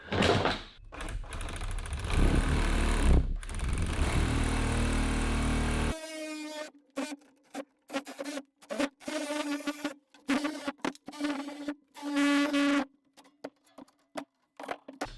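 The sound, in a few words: DeWalt nibbler cutting sheet metal tin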